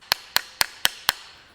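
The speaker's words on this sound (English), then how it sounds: "with some gentle love from the hammer, we got this thing to open" A hammer strikes a stuck metal EGR valve on a diesel Audi five times at an even, quick rhythm, each hit a sharp, close, ringing clank, with no voices.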